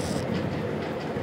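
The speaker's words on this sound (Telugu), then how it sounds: "కింద ట్రైన్ ఉంది కదా." A train rumbles past below the road in the Indian Bike Driving video game, a steady, dense rolling noise with no other sounds over it.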